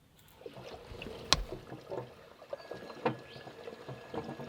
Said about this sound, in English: if I open this valve up, I should start hearing water start filling the tank